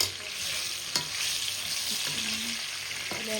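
Marinated potatoes frying in a little hot oil in a pan for biryani, a steady soft sizzle with a few stirring clinks and light scraping throughout.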